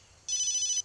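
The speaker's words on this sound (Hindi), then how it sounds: "उसी का फोन है।" Phone ringtone in a scene from a Hindi film, a steady electronic ring lasting under a second, sounding alone against a quiet background.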